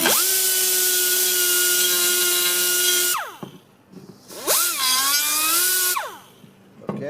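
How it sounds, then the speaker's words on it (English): A grinder blending in a dug-up, damaged area, running steadily with a sustained whine for about three seconds, then spinning down and revving up again in a second burst before cutting off. "Darn this grinder."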